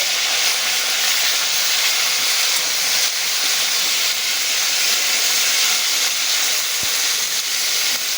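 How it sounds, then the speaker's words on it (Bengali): Rohu fish fries in a pan with loud, steady oil sizzle and hiss that holds evenly throughout, with no talk. "এবার আমি উল্টে দিয়ে অন্য পিঠও একইভাবে ভেজে নেব"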